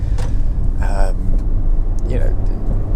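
A Honda Civic 1.8 i-VTEC SR five-door hatchback rides over badly broken, rough road, with a steady loud rumble of tyre and road noise inside the cabin while a person talks over it.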